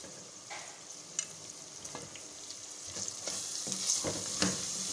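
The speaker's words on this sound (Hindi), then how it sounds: "अच्छी तरह से मसाले को कीमे के साथ मिक्स कर लेंगे।" Minced meat is mixed with dry chilli and turmeric in a hot pan for aloo qeema, a soft sizzle building under irregular spoon scrapes and clicks, no voices.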